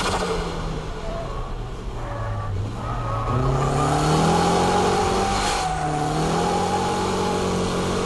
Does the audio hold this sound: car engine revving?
yes